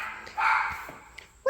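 Small dogs in a home craft studio give a short yappy bark, a brief burst near the end and a sharp bark at the close, with quiet room tone between.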